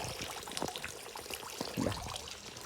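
Floodwater runs through a garden after heavy rain, a steady moderate trickling and flowing wash with small splashy bursts, fairly close and continuous throughout.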